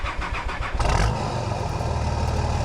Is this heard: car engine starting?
yes